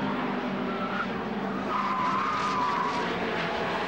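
A Renault Clio race car skids on a circuit, its tyres squealing in drawn-out tones over loud engine and road roar, with the crash itself not clearly heard.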